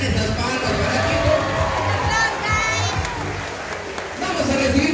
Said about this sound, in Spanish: Vamos a iniciar recibiendo con un fuertísimo aplauso